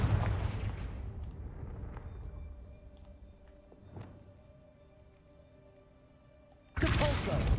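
A Confringo blasting spell in a Harry Potter video game hits with a heavy, booming explosion that decays into a long rumbling tail, and a second loud blast comes near the end.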